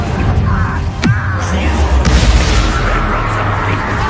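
A Confringo fire spell fires in Hogwarts Legacy. A sharp whooshing crack is followed by a second burst and a heavy rumbling boom that carries on loudly afterward.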